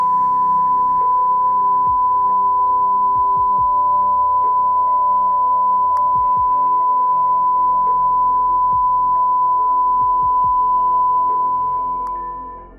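A sustained, loud censor bleep tone plays for about twelve seconds over a swear in a comic dub, holding one steady pitch with faint muffled sounds beneath it before it fades out.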